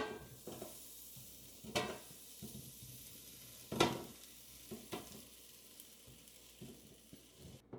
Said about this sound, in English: Let's put in the potato bites.